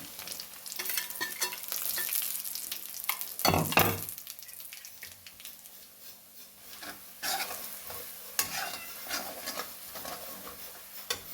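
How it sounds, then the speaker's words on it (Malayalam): Crushed ginger drops into hot oil in a pan for Kerala inji curry, with a soft crackling sizzle and several sharp stirring scrapes, close by and fairly quiet, with no talk. "ഈ പൊടിച്ചുകൊണ്ട് വന്ന് വെച്ചേക്കുന്ന ഇഞ്ചി അതിനകത്തോട്ട് ഇട്ട് കൊടുക്കാമേ"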